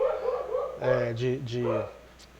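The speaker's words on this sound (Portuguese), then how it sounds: "é o meu cachorrinho latindo, o Barney" A small dog barks a few times close by, short yelping barks with a whimpering edge, heard alone against a quiet indoor background.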